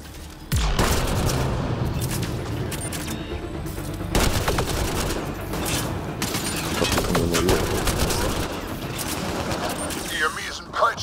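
Automatic weapon fire in Mass Effect Andromeda, rapid bursts of gunshots with booming impacts repeating over several seconds amid combat noise, with a voice speaking partway through.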